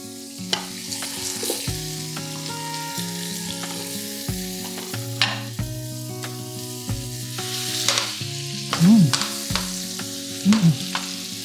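Potato chunks fry in a pan with a steady, dense sizzle throughout. Occasional scrapes and clinks come from turning them. No voices are heard.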